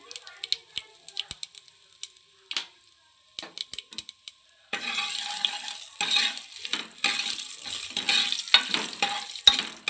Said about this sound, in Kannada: ಸ್ವಲ್ಪ ಒಣಮೆಣಸು ಆಮೇಲೆ ಕರಿಬೇವು ಹಿಂಗು ಹಿಂಗು ಸೇರಿಸ್ತಾ ಇದ್ದೀನಿ ಬೇಳೆ ಸಾಂಬಾರಿಗೆ